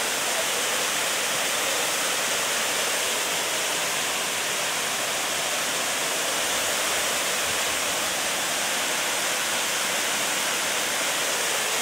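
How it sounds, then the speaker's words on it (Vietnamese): Waterfall at Thác Mu in Hòa Bình province, Vietnam, a steady loud roar of falling water filling the scene without a break, close and continuous throughout. "đây là thác Ngu, một trong những thác rất là nổi tiếng của tỉnh Hòa Bình."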